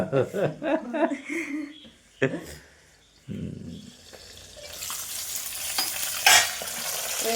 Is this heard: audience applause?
no